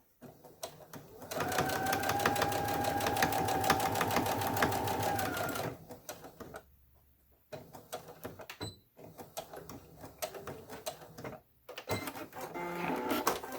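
A sewing machine stitches a fabric face mask in a steady, close mechanical whir lasting about four seconds, followed by quieter handling noises, fabric rustles and brief shorter runs of stitching.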